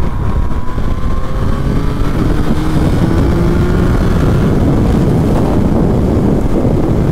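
A 2024 Yamaha MT-09 motorcycle's engine revs rise steadily as it accelerates through an overtake, heard up close beneath heavy, constant wind roar.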